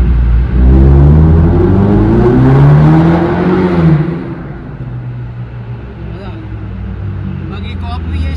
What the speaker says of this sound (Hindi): अभी गाड़ी का आप आवाज एंजॉय करो।